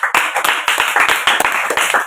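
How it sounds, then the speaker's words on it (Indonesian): Congregation clapping hands together in worship at a church service, a brisk steady rhythm of many palms beating in unison, loud and close, with no talking over it. "Berikan tepuk tangan bagi Tuhan."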